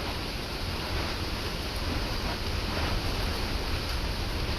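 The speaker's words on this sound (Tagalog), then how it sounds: "Lakas na ng hangin." Strong typhoon wind roars steadily outdoors at a deserted seaside spot with the sea rising, a dense, continuous broadband rush with no pauses.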